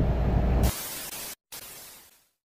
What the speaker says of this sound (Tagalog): kailangan namin punasan tapos isprehan ng pangalan